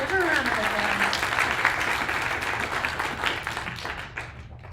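Applause for a student at a civics bee event, a close, dense burst of clapping that fades toward the end, with some voices mixed in.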